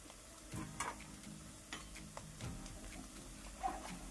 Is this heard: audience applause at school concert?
no